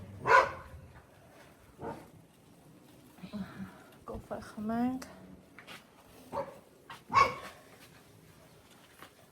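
A dog barks loudly twice, once at the start and once near the end, with smaller yelps in between, and people talk nearby.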